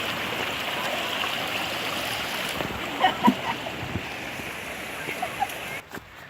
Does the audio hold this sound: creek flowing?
yes